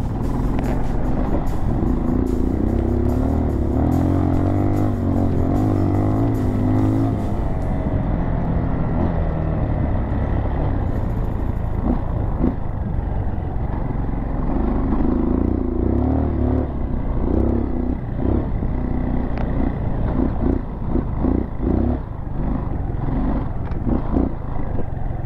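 Off-road vehicle engine roaring nonstop across sand dunes, the revs swelling and easing as it climbs and drops, loud and close the whole time.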